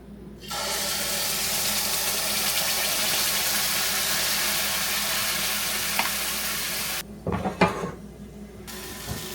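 Cottage cheese wrap frying under a lid in a hot covered pan, a steady loud sizzle and hiss that runs without pause, ending in a few clinks and a brief quieter gap.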